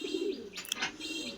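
Racing pigeons let out of their loft into the open air on a fine day give low, rolling coos in a steady murmur, with a few brighter chirps breaking through near the middle.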